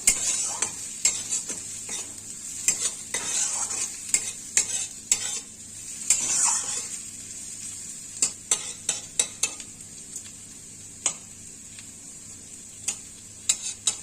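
Five green chillies frying in a pan with softened onion, a bright steady sizzle broken by a run of sharp clicks and taps of a spoon against the pan, close and alone.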